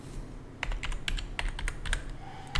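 Computer keyboard keys tapped in a quick irregular run of about a dozen sharp clicks while a password is typed on a Windows 10 PC, close and fairly loud over a low background hum, ending in a louder final keystroke.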